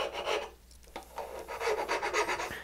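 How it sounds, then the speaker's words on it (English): A hand file rasps along the edge of a wooden box joint in close, scratchy strokes, with a short pause early on before the rubbing resumes in a quick rhythm. "I'm just coming here with the file"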